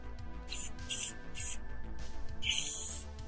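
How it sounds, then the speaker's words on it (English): Clear coat sprays from an aerosol can onto a 3D-printed ABS part in several short hissing bursts, close and fairly loud, over a low background hum. "take your clear coat and and spray it"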